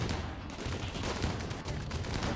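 Video game turrets fire in a dense, continuous barrage of booming shots, loud and sustained with no break, and no voice over them.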